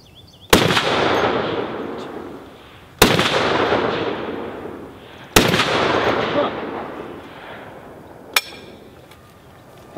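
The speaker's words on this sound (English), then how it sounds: "let's see if we can hit this Tannerite and blow his TV up. It's about 20 pounds, so it should make a big boom." Rifle shots fired at a distant charge of about 20 pounds of Tannerite rigged to a TV outdoors: three loud sharp cracks, each trailing off into a long rolling boom, then a fainter crack near the end.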